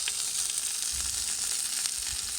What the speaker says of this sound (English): So now I'm going to bung the shallots in